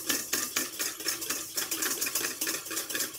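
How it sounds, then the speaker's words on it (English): A whisk beating hollandaise sauce in a bowl as butter is added a drop at a time, a soft, quick rhythmic clicking and swishing that keeps up an even pulse throughout. "while continuously whisking, I'm going to add one drop of butter and incorporate it"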